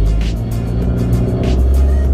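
A car engine runs close by, steady and droning while the vehicle backs out of a driveway and turns in the road, with no talking.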